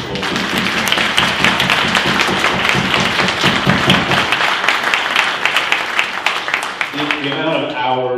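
Applause from a city council meeting audience for a state-champion boys varsity hockey team, a dense burst of many hands clapping for several seconds before fading, then a voice begins speaking.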